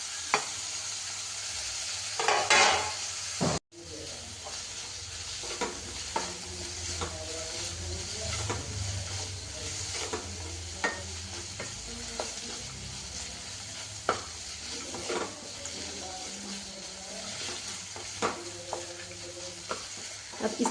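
Tomatoes and green chillies sizzle and fry in a pan, a steady hiss broken by a sharp knock near the start and repeated scrapes of stirring, with no talking.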